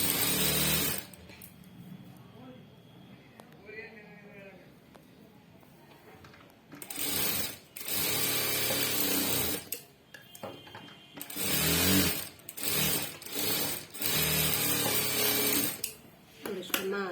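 A sewing machine stitches a blouse in a tailoring shop in several bursts of whirring, separated by pauses, with a person talking between and over the runs.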